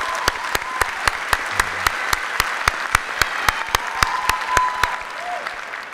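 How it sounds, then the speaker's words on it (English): Light, steady clapping from a small part of the crowd at a spring university commencement ceremony, sharp regular claps ringing on for several seconds with no talk over them. "I ask you to give her a round of applause"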